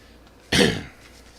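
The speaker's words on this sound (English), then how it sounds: "I apologize with the cough." A single sharp cough, close and loud, bursts out once from a male live-radio host spinning 1950s and 60s 45s, then fades back into quiet room tone.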